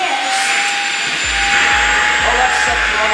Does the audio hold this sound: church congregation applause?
no